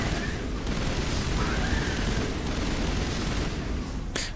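Sustained video-game gunfire from Mass Effect during a chaotic firefight, a dense rattle of rapid shots running throughout with a sharp burst near the end, mixed with faint background game noise.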